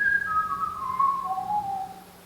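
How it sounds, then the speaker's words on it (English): A person whistles a slow tune of a few sustained, gliding notes that step downward, clear and close over a faint steady background hum, with no talking. "he goes in and he whistles a tune,"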